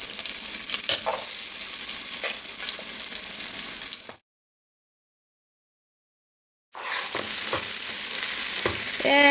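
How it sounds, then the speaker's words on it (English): Corn, onion and serrano pepper fry in a hot pan for esquites, a loud continuous sizzle with stirring clatter that cuts to silence for a few seconds and then resumes. "you're gonna start by adding all of the corn, the onion, and the serrano pepper"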